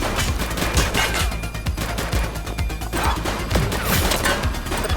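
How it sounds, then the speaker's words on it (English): Rapid gunfire from an enemy shooter in the police game The Precinct: loud, dense bursts of shots that crackle continuously with sharp transients and crashing impacts, close up and without pause. "He's shooting!"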